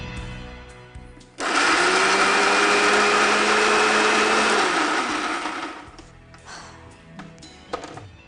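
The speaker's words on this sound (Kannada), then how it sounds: "ಇದೆರಡು ಗ್ರೈಂಡ್ ಮಾಡ್ಕೊಳ್ತೀನಿ" A mixer grinder grinds a spice paste in a home kitchen, starting abruptly with a loud, steady high-pitched whirring that holds for several seconds and then stops, leaving quiet clatter and faint handling.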